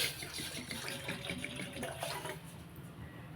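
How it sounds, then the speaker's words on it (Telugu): Water streams steadily into a metal pot for a chana dal and coconut curry, a continuous splashing pour with faint clinks, close up. "ఒక కొన్ని వాటర్ వేద్దామండి"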